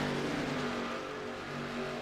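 Race car engine in a sim racing game at Phoenix Raceway, a steady droning roar held at even loudness through the whole moment, with no sharp pass-by swell.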